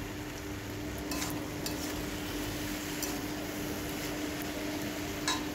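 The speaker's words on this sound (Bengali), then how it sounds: "দিয়ে ভালো করে সবজিটাকে নেড়ে নেবো।" Vegetables with spices and salt being stirred in a pan for a vegetarian Malabar spinach stem dish, a soft continuous sizzle with a few light utensil clinks, close and moderate.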